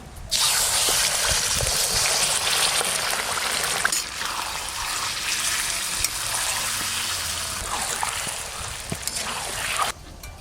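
Spice-marinated chicken sizzles in hot mustard oil in a home kitchen. The frying hiss is loud, steady and close, and it runs without a break for about ten seconds.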